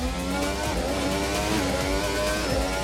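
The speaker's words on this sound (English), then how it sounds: "now we've got the full whack of the engine and the hybrid and everything else" A Formula 1 car's engine and hybrid system accelerate hard on track, a loud, continuous, rising mechanical roar with shifting tonal harmonics and no voices over it.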